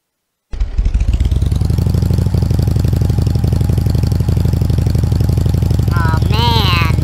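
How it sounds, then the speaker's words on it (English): A motorcycle engine in Roblox Bloxburg starts abruptly and runs at a steady, loud, rapid throbbing idle throughout, with a brief squealing wobble of a voice-like sound near the end. "riding this motorcycle with all this vibrating and everything is just making it worse"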